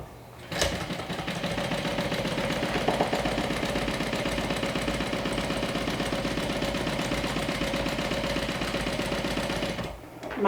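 A sewing machine stitches steadily through waterproof canvas, a continuous close mechanical hum with rapid needle chatter running about nine seconds before stopping.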